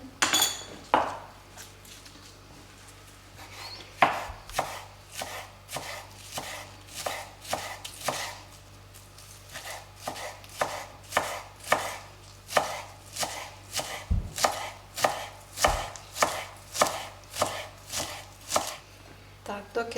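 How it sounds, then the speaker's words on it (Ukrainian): Kitchen knife chopping fresh green onions on a board for a black radish salad, a steady run of sharp, close chops at a quick even rhythm, with no talking. "Але перед тим тут сюди поріжемо зеленої цибульки."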